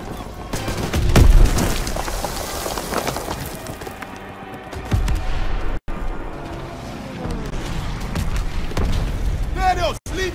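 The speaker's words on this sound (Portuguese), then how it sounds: "Arremessando granada!" A grenade blast in the Call of Duty WWII video game on Xbox One, with one loud near boom early on, then rumbling battle noise and further bursts under shouting voices.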